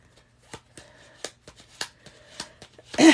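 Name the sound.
shuffling cards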